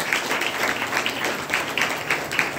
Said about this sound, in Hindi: अपने लिए एक बार जोरदार ताली बजाइएगा